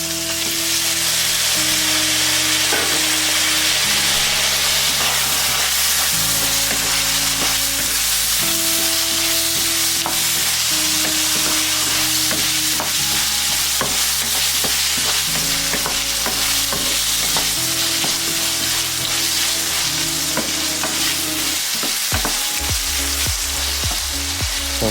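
Onion and diced potatoes sauté in a pot for a lentil and spinach soup, with a loud, continuous frying hiss and a steady tonal melody playing underneath throughout.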